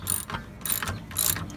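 Bushing puller on a 1989 BMW 3 Series front control arm, pressing the shaft through the bushing: three bursts of creaking, clicking mechanical strain with a ratchet-like rasp, close and fairly loud, separated by short quieter gaps.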